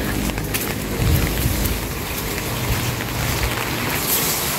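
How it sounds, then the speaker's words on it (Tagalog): Steady rain pours down with low thunder rumbling underneath, a continuous wash of noise at an even level with no voices. "Ulan na."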